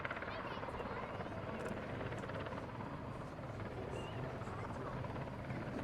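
A Belgian Sea King helicopter hovers at an air show during a winch demonstration, its rotor and turbine roar a dense, steady wash throughout, with a commentator talking over it.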